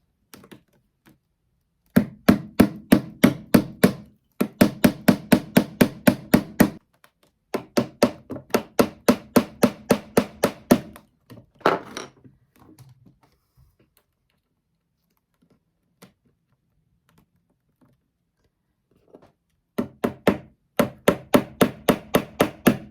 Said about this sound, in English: I'm going to use a hammer to knock in the little pins